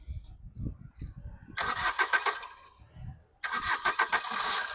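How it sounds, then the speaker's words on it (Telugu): A 2017 Maruti Swift Dzire diesel engine starts on a single crank: a brief starter whir, a pause, then the engine catches and settles into a steady, close diesel idle. "సింగిల్ సెల్ఫ్లో బండి స్టార్ట్ అవుతుంది సార్."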